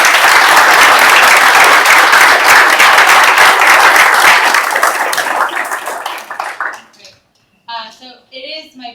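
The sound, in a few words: audience applause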